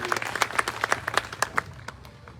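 Crowd at an election rally in Jhunjhunu claps in a short burst of distinct, fairly close handclaps, irregular and overlapping, fading out within a couple of seconds.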